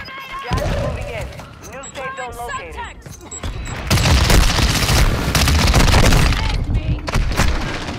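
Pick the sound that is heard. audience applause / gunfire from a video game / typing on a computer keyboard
gunfire from a video game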